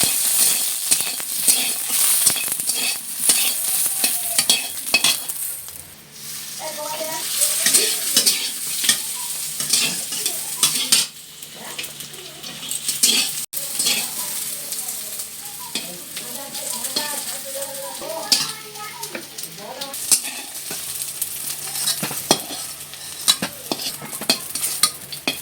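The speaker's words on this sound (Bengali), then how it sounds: "বেগুনগুলিকে ভালো করে ভেজে নেব" Eggplant pieces fry in a pan for a browned vegetable curry with red amaranth stems, giving a steady close sizzle broken by repeated scraping and stirring strokes, with no talking.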